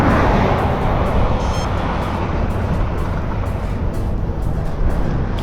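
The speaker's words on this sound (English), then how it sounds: "there's another car coming" A car passes a cyclist on an open road, a loud steady rush of tyre and engine noise mixed with wind buffeting close to the rider, with no talking.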